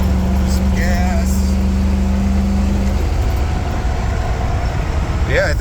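A 460 EFI engine on its first run with a stand-alone system revs loudly and steadily close by, with a constant roar throughout and wind noise over it.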